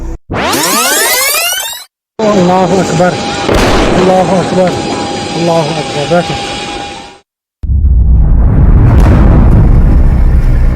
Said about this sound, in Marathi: एक गोळी चालली आणि त्याच फायरिंग नंतर